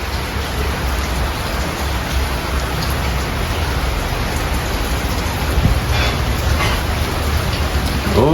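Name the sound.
rain falling outside on plants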